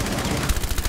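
Rapid gunfire in the video game Rainbow Six Siege, a dense close burst of repeated shots packed into under a second.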